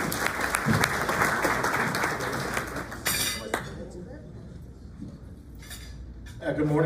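Audience applause at a graduation ceremony in Corona, strong and continuous for about three seconds, then thinning into a few scattered claps, light clinks and murmurs before a voice begins to speak.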